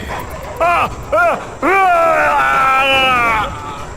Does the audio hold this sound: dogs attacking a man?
yes